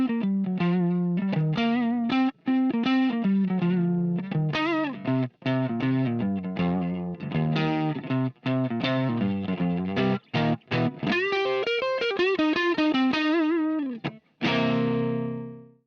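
An electric guitar plays a continuous bluesy phrase through Axis Fuzz and Dunlop Band of Gypsys fuzz pedals. The tone is close, thick and distorted, with short gaps between notes and a final chord ringing out.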